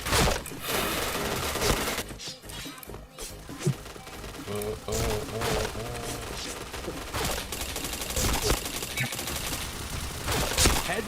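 Dense, continuous gunfire from a video game shooter, rapid automatic bursts and sharp cracks layered over a busy game soundscape, with voices mixed in underneath.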